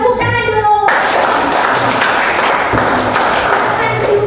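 An audience of teachers in a classroom gives a burst of dense clapping, loud and close, sustained for several seconds after a brief voice at the start.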